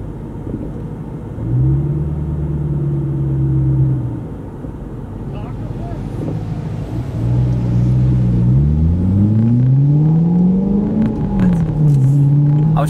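A car drives along a road, engine rumbling steadily with rising and falling pitch as it accelerates and shifts, tyre and road noise constant beneath, loud and close from inside the cabin.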